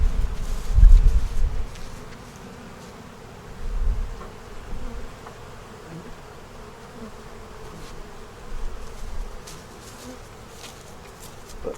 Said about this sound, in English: People, you can't save all the bees.